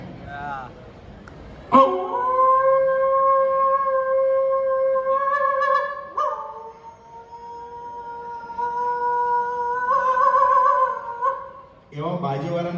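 A mimicry artist uses his voice to imitate dogs howling, producing long sustained wavering howls in two or three drawn-out stretches, loud and close, with brief vocal sounds at the start and end.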